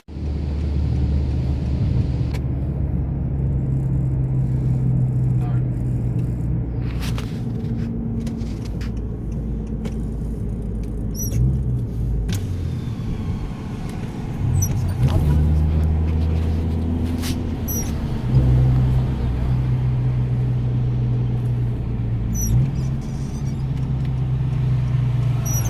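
A 2018 Honda Accord and a 2020 Mustang GT 5.0 racing, heard as a sustained low engine rumble with shifting pitch and a few surges from close by, and no talking.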